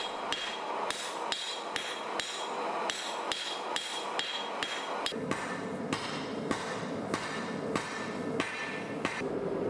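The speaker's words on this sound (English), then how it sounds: "While keeping the steel angled to the face of the anvil, I start tapering the drift to a point." A hammer strikes a steel drift on an anvil as the blacksmith forges it to a taper, a steady rhythm of sharp metallic blows, about two per second, ringing close and loud with nothing else heard.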